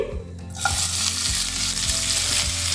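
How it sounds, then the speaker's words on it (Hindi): Finely chopped onion dropped into hot oil for palak paneer, a sudden loud sizzle that continues steadily, with a few rhythmic stirring knocks against the pan; no talking. "प्याज को हल्का भूनेंगे"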